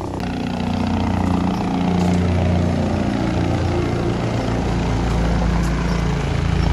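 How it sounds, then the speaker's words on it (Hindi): A helicopter flies at Kedarnath, its rotor and engine forming a steady, loud droning hum with a rhythmic low throb that holds throughout, with no one talking. "पर अब आया भाई बहुत देर में हेलीकॉप्टर"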